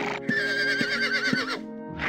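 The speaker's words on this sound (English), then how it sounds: "we are going to go try to tame one of your horses here" A horse neighs in Ultima Online, a long rising and falling whinny over light game sounds and soft hoof-like thumps, fairly close and clear with no talking.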